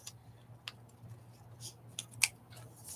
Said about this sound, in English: We're going to trim both sides of this.